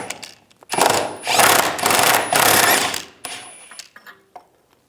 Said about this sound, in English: Using a 13mm socket, I'm going to take this bolt out of this bracket.